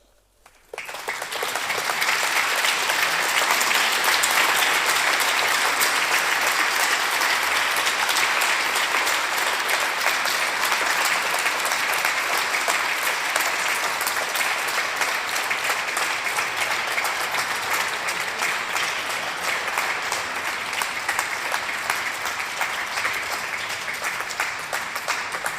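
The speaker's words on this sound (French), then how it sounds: "Vos applaudissements disent long." An audience at a spirituality lecture bursts into loud, sustained applause that starts abruptly after a brief quiet and stays dense and even for about twenty-five seconds, with no voices.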